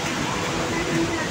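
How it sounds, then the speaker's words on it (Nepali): Rain pours down steadily at an outdoor birthday gathering, a dense, even hiss of falling water filling the short moment with no clear breaks. "पानी झरीमा"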